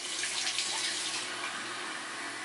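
A bathroom tap runs steadily while facial wash is rinsed off, a continuous bright hiss of flowing water into a sink with slight splashing variations, close and alone without talk.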